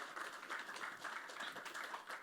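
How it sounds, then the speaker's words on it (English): An audience at a Web3 and regulation panel gives a panelist a faint, distant round of applause, steady clapping that runs for a couple of seconds without talk. "Please give him a round of applause."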